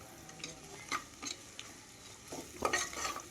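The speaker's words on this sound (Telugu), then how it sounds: "ఉల్లిపాయలు పచ్చిమిరపకాయలు మసాలా సరుకులు అన్నీ వేసుకొనియండి బిర్యానీ సరుకులు మసాలా వేసుకుంటున్నాను" Onions, green chillies and biryani masala fry together for egg biryani, with quiet sizzling broken by light stirring scrapes and a few utensil clinks against the pot.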